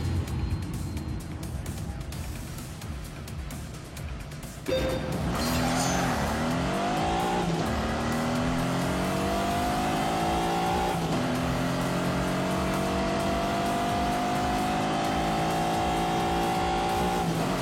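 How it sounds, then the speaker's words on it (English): A Lamborghini with a flat V12 engine drives a lap, its loud, close engine note climbing steadily through the gears with sharp upshifts and long surging pulls. "it's now time to see how the Lambo got on."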